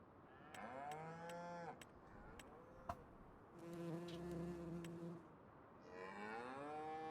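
Cattle in Farming Simulator 25 lowing in a barn setting, several drawn-out moos rising and falling with harmonic tones, separated by short clicks and a steady background hum, with no talking.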